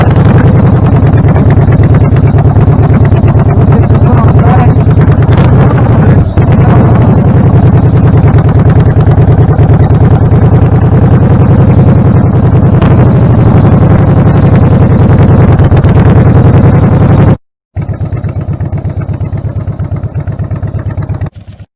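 Motorcycle engine and wind roar from a helmet-mounted GoPro 8 on a test ride with a faulty idle sensor, loud and steady for most of the stretch, then briefly cut off before a quieter engine hum returns.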